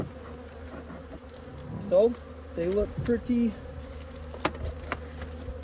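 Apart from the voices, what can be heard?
honeybees buzzing around a hive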